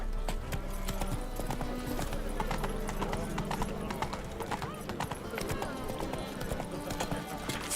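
Roach, a horse in The Witcher 3, gallops with steady, rapid clip-clop hoofbeats throughout, accompanied by game music and characters' voices.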